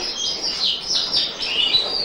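A nervous show bird at a bird show calls in a steady run of bright, high chirps, close and fairly loud, with no voices.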